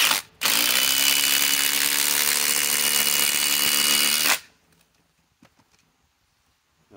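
A Milwaukee M18 Fuel Gen 4 2953-20 impact driver on a 6 amp Forge battery drives a ledger lock screw in one loud, close burst of hammering that lasts about four seconds, then stops abruptly, leaving near silence with a few faint clicks.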